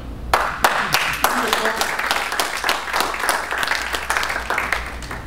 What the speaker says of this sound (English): I'd like to lead you in a round of applause for you.